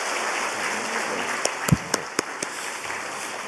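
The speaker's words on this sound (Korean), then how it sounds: "뜨거운 박수로 축하하겠습니다." A church congregation applauds during a Korean Sunday service, a steady wash of clapping with a few sharper claps standing out near the middle.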